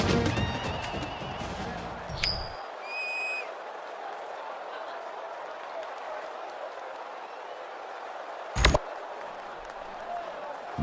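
Stadium crowd in the NCAA Football 2014 video game rumbles steadily before kickoff, with a burst of noise and clicks early and a sharp loud crack near the end.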